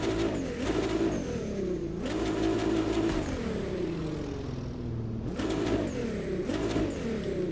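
A Nissan GT-R Nismo GT3 race car engine in a video game revs hard and repeatedly, the pitch climbing and dropping through gear changes, loud and continuous with no voices.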